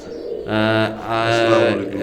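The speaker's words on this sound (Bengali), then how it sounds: "আবার কবুতারে চলে আসলাম দেখেন মাশাআল্লাহ কোয়ালিটির আইসপিআর কবুতর তিন ফিটারের কেটিএম কবুতর" Imported KTM teddy pigeons coo in two close, low rolling bursts, each under a second, over a faint background.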